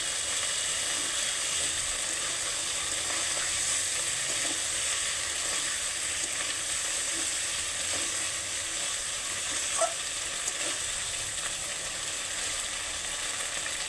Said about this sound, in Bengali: তেলটা গরম করে আলুগুলো ভেজে নিয়ে মাংসগুলো দিয়ে দিয়েছি।